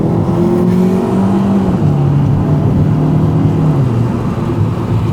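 An Alfa Romeo MiTo Quadrifoglio engine revs hard and holds high, around 6500 rpm, with a steady droning tone that climbs and dips slightly, loud and close with no talking.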